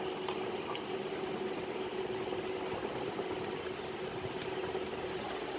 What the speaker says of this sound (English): Now I'm going to pick it and fill with the water.